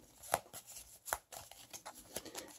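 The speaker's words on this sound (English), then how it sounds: "And then you're going to shuffle them all up." Paper share certificates for a railroad board game being gathered and shuffled by hand, giving a few quiet, brief papery riffles and swishes spaced irregularly, close up with no talking.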